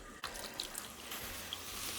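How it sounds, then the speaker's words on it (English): Water pours steadily into a pot to cook gari for fufu, a soft continuous running and splashing close by, fairly quiet. "So we're going to add water"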